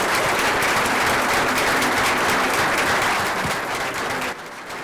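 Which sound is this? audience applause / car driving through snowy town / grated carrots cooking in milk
audience applause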